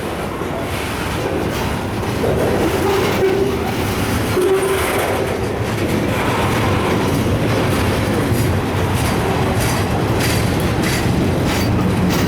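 A heavy, slow CSX westbound mixed freight train with several locomotives rumbles past close by, its wheels clattering in a steady clickety-clack that stays loud and constant throughout.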